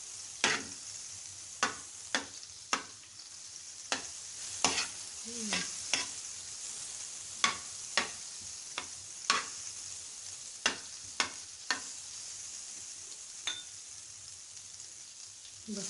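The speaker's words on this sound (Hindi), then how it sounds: "फिर हमने इसमें ज़ीरे का तड़का ऐड कर दिया, मक्खन और ज़ीरा।" A butter and cumin tempering sizzles gently in a pan while a spoon repeatedly clinks and taps against the metal in quick, irregular knocks. No voices are heard.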